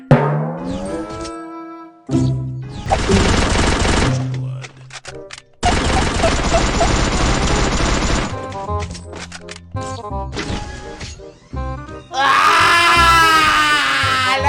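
Loud bursts of rapid gunfire in the video game Free Fire crackle in long stretches, broken by short gaps, with shrill screaming and electronic effects near the end.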